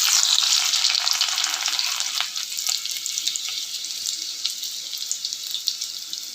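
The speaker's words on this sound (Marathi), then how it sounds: "तेल चांगलं गरम झालेलं आहे. जिरं पण भाजलंय. आपण लसूण टाकून घेऊया." Garlic dropped into hot oil with toasted cumin seeds for a sprouted moth bean and potato curry, a loud bright crackling sizzle right up close that slowly settles but keeps going, with no talk.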